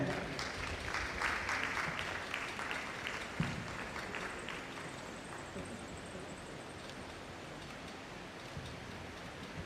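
Steady applause from an audience at a college lecture rolls on throughout, a soft wash of many hands heard from some distance with a faint hiss underneath.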